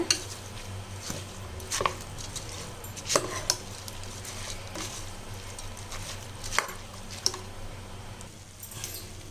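A spoon stirs and scrapes through a thick sambar rice mixture in a pot, with irregular clinks and wet squishing at close range against a low background hum, with no talking.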